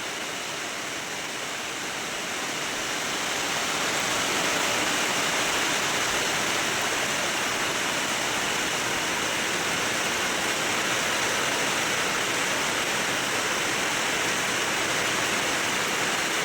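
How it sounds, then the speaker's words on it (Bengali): Steady rain pours down in a dense, continuous hiss near the Sundarbans, rising a little at the start and then holding constant without any voices. "দেখুন বৃষ্টি হচ্ছে।"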